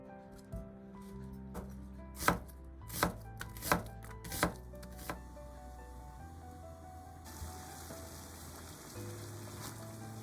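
A knife chops shallots on a cutting board in a run of crisp, evenly spaced strikes, some louder than others, then the chopping fades into quiet background.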